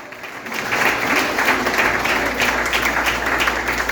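A church congregation at a family service applauds, with sustained, even clapping from many hands over a low hum, continuing for more than three seconds after a brief quiet start.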